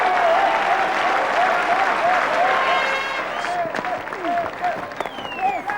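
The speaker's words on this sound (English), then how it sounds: "He gets the standing applause of his Australian teammates" A cricket crowd applauding a six that brings up a batsman's century, loud sustained clapping from a large stadium audience with whistles over it.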